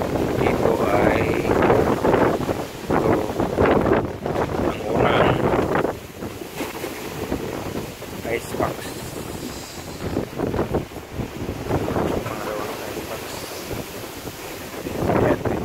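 Strong wind buffeting the microphone aboard a fishing boat on rough Pacific Ocean seas, with surging waves and water rushing in uneven loud pulses, and someone talking intermittently beneath.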